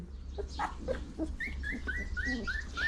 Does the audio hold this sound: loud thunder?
no